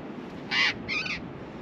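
Seabirds screech at their nesting holes in Patagonian sea cliffs, two loud harsh calls in quick succession standing out over a steady background hiss.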